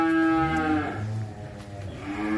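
A cow on a cattle farm gives a long, loud, deep moo that dips and then rises again, close by, with no talking over it.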